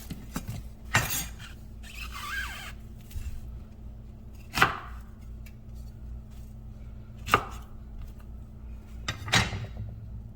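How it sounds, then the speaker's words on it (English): A knife chops sharply on a cutting board while julienning onions, a handful of distinct loud strikes spaced a few seconds apart over a steady low kitchen hum. "We just gonna julienne onions."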